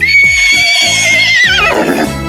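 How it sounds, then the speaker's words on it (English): A horse gives a loud, close whinny that rises and then falls in a long quavering cry, joined by a few low repeated thumps. "H is for horse, horse."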